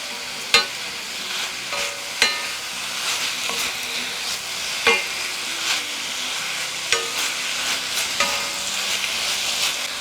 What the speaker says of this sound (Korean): 볶아주세요